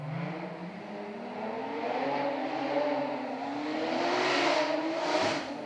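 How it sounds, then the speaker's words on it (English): A high-revving supercharged 300-plus horsepower V6 engine in a Honda Jazz rally car roars steadily, pitch climbing and falling as it accelerates, loud and close with no voices. "replacing the stock Honda Jazz unit is a supercharged 300 plus horsepower V6 engine"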